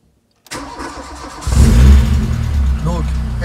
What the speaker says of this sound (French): Je vais mettre le contact, elle va démarrer direct, et si j'accélère, il va y avoir des trous à l'accélération